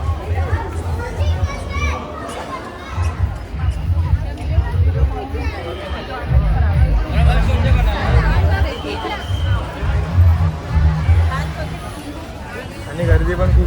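A dense crowd of families and children throngs Bandra Carter Road at night, a constant close babble of voices with kids shouting and playing, while someone talks over the din.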